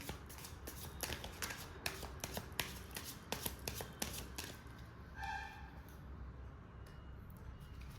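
Tarot cards shuffled by hand in quick riffling bursts of crisp, papery flicks and taps that come close and clear, settling into a softer single rustle near the end.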